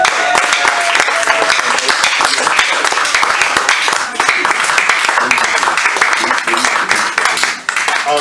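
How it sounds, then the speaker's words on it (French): A church congregation at a seminary service claps and cheers in dense, loud, sustained applause that carries on throughout with barely a pause. "nous applaudissons, nous acclamons pour l'homme de Dieu"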